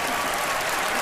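A studio audience applauds a magician after a card-and-clock trick on a televised magic competition, a dense, even burst of clapping from a large crowd, loud and continuous.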